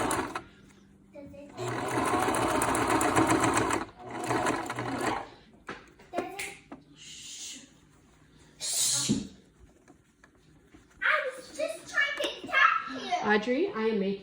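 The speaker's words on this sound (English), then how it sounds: "So then I am going to run a seam back down." A sewing machine stitches a seam back down over elastic on a homemade fabric face mask, running in long steady bursts with short pauses, followed by children's voices chattering close by.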